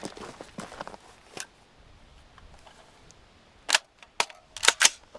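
Three sharp suppressed gunshots through a JK Armament Form 1 suppressor, fired past the camera into dirt, come late and close together with a brief crack each, after quieter scattered ticks and rustles.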